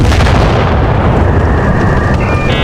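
Tank cannon fire in the World of Tanks game makes a loud, dense, continuous booming roar that fills the whole stretch without a pause.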